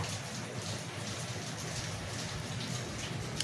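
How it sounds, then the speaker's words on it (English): Rain falling outside, a steady, dense hiss of drops on surfaces, even and unbroken throughout at moderate volume with no voices. "Also, it's raining outside."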